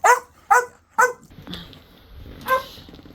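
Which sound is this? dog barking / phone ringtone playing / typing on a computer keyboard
dog barking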